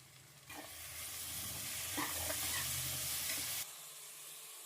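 Tomatoes frying in a pan with coriander and mint leaves for soya biryani, a close, steady sizzle broken by stirring scrapes, ending abruptly into quieter background hiss.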